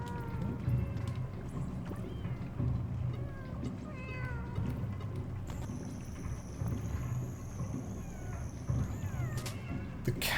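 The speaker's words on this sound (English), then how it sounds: "The cats don't seem to be as attracted to the yo-yo" Cats meow repeatedly in the video game Animal Well, with short wavering cries scattered through a busy game soundscape and a sustained high tone partway through, moderately loud with no clear talk.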